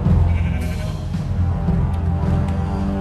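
Minecraft sheep bleat continuously in dense, overlapping wavering cries, loud and close, with no talking.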